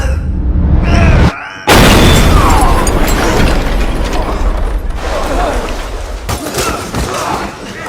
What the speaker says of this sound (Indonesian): harus dihadapkan pada sebuah granat yang dilempar ke ruangannya